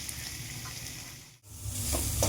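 Mashed prawns sizzle in a hot pan while being stirred, a continuous close frying hiss with a brief dip as the spatula scrapes, then louder sizzling.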